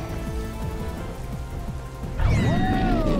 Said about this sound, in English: Oh, rain's about to end.